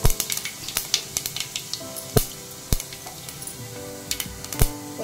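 Fennel seeds crackle and sizzle in hot oil in a cooking pot for tempering, with sharp spitting pops scattered over a steady frying hiss, close and moderately loud with no talking.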